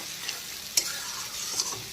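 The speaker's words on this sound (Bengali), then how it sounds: "পুরো মশলাটাকে কষিয়ে একদম ভাজা ভাজা করে নিতে হবে" Spice masala for a prawn and coconut loti sundori curry stir-fried in oil over low to medium heat gives a steady close sizzle, broken by a couple of sharp spatula scrapes and clicks, with no talking.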